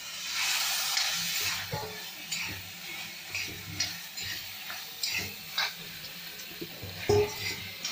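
Beef pieces hit a hot pan with an initial faint sizzle, followed by soft scraping and clicking as they are stirred, quiet and close with no voices.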